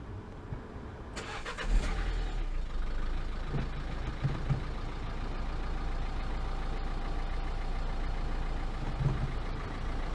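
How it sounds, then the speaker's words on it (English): A Nissan Qashqai J11 engine cranks and catches after a timing belt replacement, then settles into a steady, even idle close by with no talking. "Okay, we can try start the engine."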